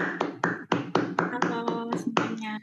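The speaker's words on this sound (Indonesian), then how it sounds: "tepuk tangan teman-teman" A small group claps hands in a sharp, distinct rhythm of about ten claps while welcoming a guest on a talk show. Each clap stands out clearly and sits close to the microphone.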